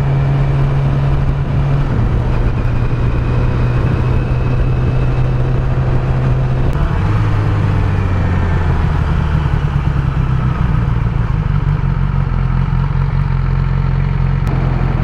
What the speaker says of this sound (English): Right now at 4000 RPM, the bike doesn't really jerk much.